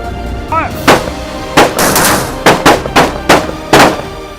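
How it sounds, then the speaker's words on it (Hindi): Cadets fire on the short firing range of the Officers Training Academy in Chennai: about eight loud, sharp gunshots ring out close by in an irregular sequence, with brief echoing tails between shots. "यहाँ पे आपने देखा किस तरीके से कैडेट्स ने फायरिंग करी"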